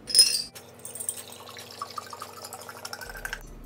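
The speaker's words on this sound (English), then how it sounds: "you fill it up with spring water" Spring water pours into a glass jar holding a crystal, a close trickling stream with bright splashes and drips over a low hum, ending abruptly.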